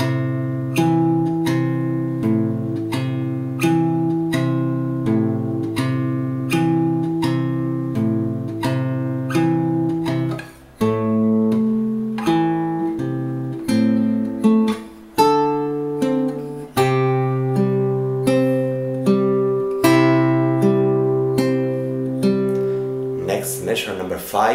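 Fingerstyle acoustic guitar plays a piece from Kung Fu Panda, steady plucked bass notes under a gentle melody for the whole stretch, close and clear, with a couple of brief pauses and no talking.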